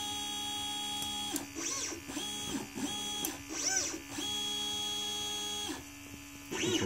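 A Liteplacer DIY pick and place machine swaps to a different nozzle with its auto nozzle changer, giving a steady electric hum broken by several rising and falling motor whines as the head moves, close and fairly loud.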